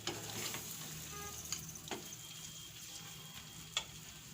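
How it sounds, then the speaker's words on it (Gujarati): Soaked fenugreek leaves and green chillies fry in oil in a pan, a soft continuous sizzle and crackle with a few sharp pops and clicks of utensils, close and quiet, with no one talking. "હવે મેથીને અને મરચાંને આપણે તેલમાં સડવા દેવાનું છે"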